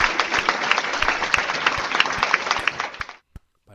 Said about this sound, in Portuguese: Então é isso aí, uma salva de palmas.